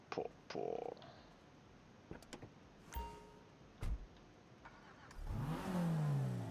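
GTA Online car engine, quiet overall, with short door and mechanical clicks and a few brief bursts before a loud revving engine climbs and sweeps upward at the end.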